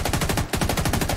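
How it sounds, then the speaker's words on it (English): Rapid automatic gunfire in the video game The Division 2: a steady stream of fast, evenly spaced shots, loud and close, broken by one brief pause before the firing resumes. "Sounds like one of us is shooting."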